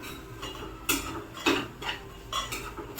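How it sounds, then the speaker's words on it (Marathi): Ground coconut is stirred and sautéed in a pan while making ukadiche modak, with a spoon scraping and knocking against the metal pan in about five sharp clinks between softer shuffling strokes. "आपण छान असं मिक्स करून घेऊयात मस्त असं परतून घेऊयात"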